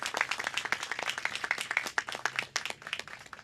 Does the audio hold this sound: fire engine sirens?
no